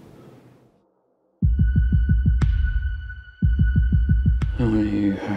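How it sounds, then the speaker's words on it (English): A heartbeat thuds out two runs of evenly spaced low beats, each run cut off by a sharp high stinger, leaving a tense, rhythmic pulse over a droning tone, with faint voices before the first run. "Can I listen to your heartbeat?"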